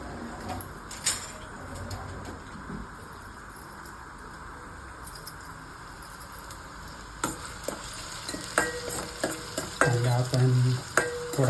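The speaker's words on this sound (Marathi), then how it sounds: "ब्राऊन होईपर्यंत परतून घेणार आहोत" Chopped onion sautéing for a spicy Maharashtrian crab curry, a soft continuous sizzle with occasional stirring scrapes and clinks from a spoon in the pan, fairly close and alone.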